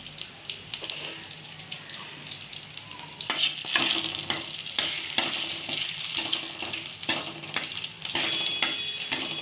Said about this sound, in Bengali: এবার এটাকে আমি ভালো করে একটু ভেজে নেব